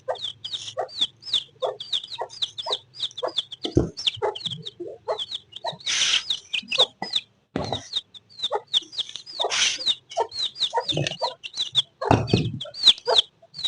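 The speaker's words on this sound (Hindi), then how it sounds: "ये निकला है चूजे।" Small chicks and fowl chirping and clucking in a busy, continuous chorus of short, high peeps, one chick weak and sick among them, with occasional louder calls close by and no speech.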